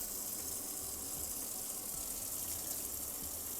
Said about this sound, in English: empty out the water.